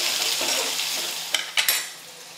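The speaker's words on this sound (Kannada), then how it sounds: "ಇದೆಲ್ಲ ಚಲೋ ಹೊತ್ತಿಗೆ ಫ್ರೈ ಮಾಡ್ಕೋಬೇಕಾಗ್ತದೆ." Chopped onion and curry leaves fry in a pan, giving a close, steady sizzle. Near the end a few sharp clinks and scrapes come from a spoon stirring, and there is no talk.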